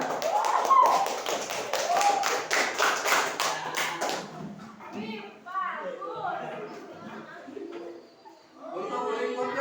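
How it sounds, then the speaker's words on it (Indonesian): Students in an Indonesian classroom burst into a few seconds of quick, close applause after a group presentation, then the clapping stops and talk continues. "Tepuk tangannya."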